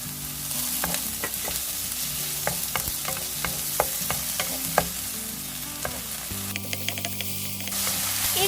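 Onion frying with sugar and soy sauce in a pan for kimchi fried rice, a steady close sizzle broken by sharp scrapes and taps of a utensil stirring, with no talking.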